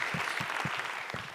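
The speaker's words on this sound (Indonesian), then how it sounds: "tepuk tangan dong buat Mukmin" A live audience at a stand-up comedy show applauds, a dense, steady wash of clapping throughout, close and fairly loud.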